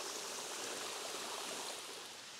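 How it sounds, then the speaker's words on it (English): Water flowing at the top of Benton Falls, a low-volume mountain waterfall, making a steady, even rushing hiss heard close by with no other sounds. "There's definitely water flowing here."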